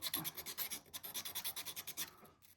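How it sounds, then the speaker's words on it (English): A brass tree tag edge is rubbed back and forth on 400 grit sandpaper in a quick, even rhythm of soft rasping strokes, close but faint, with no talk. "just taking a piece of sandpaper, this is that 400 grit"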